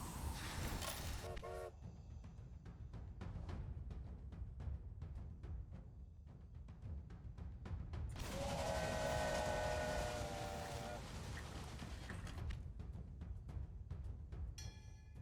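A train runs in the video game Railway Empire, with rhythmic rolling clatter, a sustained whistle or horn blast in the middle, and a shorter tone near the end.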